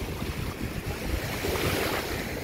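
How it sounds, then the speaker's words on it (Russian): Sea waves wash onto a beach in Tunisia, a close, rushing surf mixed with gusty wind buffeting the microphone. "Чуть-чуть волны появились."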